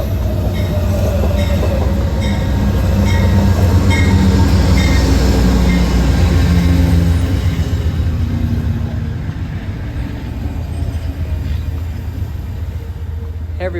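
Washington Metro Red Line train near Rockville, Maryland: a loud, continuous low rumble and rail roar that swells midway and then eases slightly, heard alone without talk.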